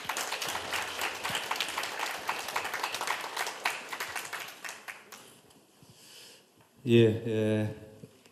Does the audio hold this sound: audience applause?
yes